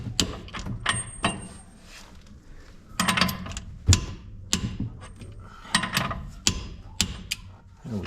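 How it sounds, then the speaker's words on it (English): Top bolt on a 2003 Ford F250 ball joint being tightened, a close series of sharp metallic ratchet clicks and clanks in irregular bursts, with no talking. "So tighten up this top bolt"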